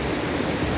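Water rushes over the Vandri lake waterfall in a dense, steady roar, close and loud, with no break or other sound above it.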